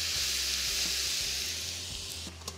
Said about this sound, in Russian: Смотрим, что у нас там снизу жарится.